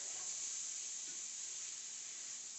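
Sausage fries in a pan on medium heat, giving a steady, even sizzle and hiss that holds without a break and stays fairly quiet.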